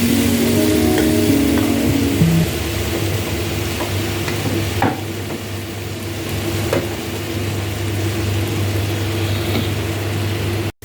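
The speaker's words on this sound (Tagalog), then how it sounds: "iluluto muna natin yung ham." Ham frying in a pan while someone cooks Southern fried cabbage with Cajun flavors, giving a steady close sizzle with occasional stirring scrapes and clinks throughout.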